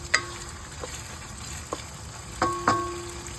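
Pancit palabok being stirred in a pan: a few sparse scraping and clinking strokes of a utensil against the pan, the last two louder, over a quiet low background with no talking.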